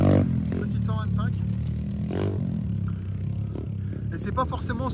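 125cc motocross motorcycles rev and pass by at close range on a dry track, their engines rising and falling continuously, with people talking over the noise.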